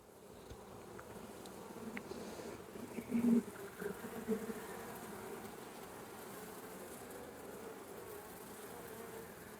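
Honeybees buzz steadily around an open hive during an inspection, a continuous dense hum with a few brief louder swells as bees pass close, no talking.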